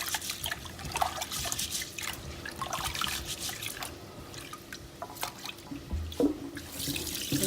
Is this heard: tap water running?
yes